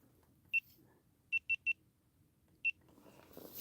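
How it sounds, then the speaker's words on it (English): Five short, high electronic beeps from a GoPro camera sound over quiet background noise on a frozen lake while ice fishing, one alone, then a quick run of three, then one more. "that beeping you're hearing, I am running the GoPro."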